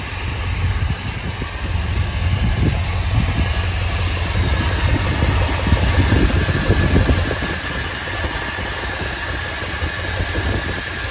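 A 1972 Dodge W200 Power Wagon, just started for the first time in years, runs steadily with a loud, close, rough engine drone that holds even throughout, with no talking.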